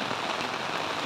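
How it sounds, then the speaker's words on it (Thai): Heavy rain pours down on a banana grove near a house in Phayao, a dense, even hiss of drops drumming on surfaces without letup, loud and close, with no voices. "นี่ฝนมาแรงแล้ว"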